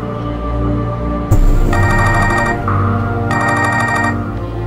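A telephone rings unanswered with loud, repeated electronic ringtone bursts over a sustained tonal background, with no one picking up.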